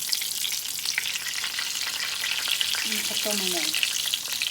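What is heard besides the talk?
eggplant slices frying in oil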